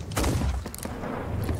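Cannon fire from the skull fort island in Sea of Thieves lands as a few booming thumps in quick succession, mid-distance and moderately loud.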